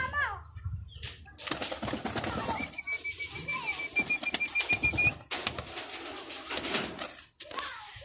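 Young racing pigeons flap their wings as they flutter down during basic trapping, with brisk bursts of wingbeats and occasional soft coos, while people talk nearby.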